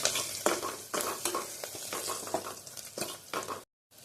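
Onions and green chilies fry in a pan while a spoon stirs them in repeated scraping strokes over a soft sizzle, the strokes arriving at an irregular pace up close, ending in a brief silence.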